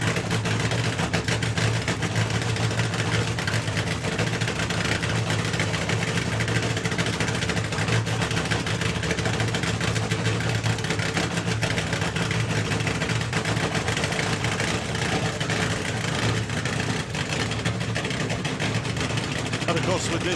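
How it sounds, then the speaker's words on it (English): A nitro funny car at a nostalgia drag racing meet holds a low, steady engine drone on low revs for its burnout, continuous and fairly loud throughout, with people talking over it. "Very low on the revs for the burnout."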